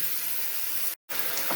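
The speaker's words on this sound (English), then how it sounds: "you can see that this is boiling" Chicken with taco seasoning and water bubbles in a pan on the stove, a steady hissing bubble broken by a moment of silence before it resumes, close and fairly quiet.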